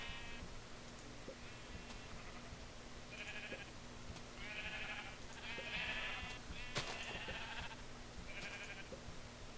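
Sheep in the Minecraft video game bleat in a string of short, quiet, repeated calls over a low steady hum, several bleats clustered close together.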